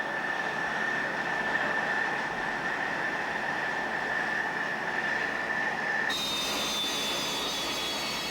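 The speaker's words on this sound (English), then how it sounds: "the aircraft taxis to the CAT, the catapult that will fling it skyward" A jet fighter taxis across an aircraft carrier deck toward the steam catapult, its turbine giving a loud, steady roar with a sustained whine that shifts pitch near the end.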